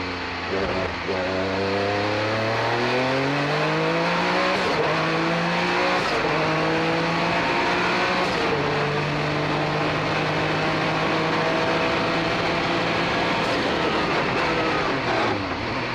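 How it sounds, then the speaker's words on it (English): A high, screaming Mazda rotary-engine race car roars past, its pitch sweeping as it goes by, steady and loud over a continuous track din. "You hear that scream of that rotary engine."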